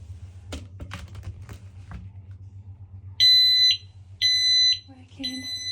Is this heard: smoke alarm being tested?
yes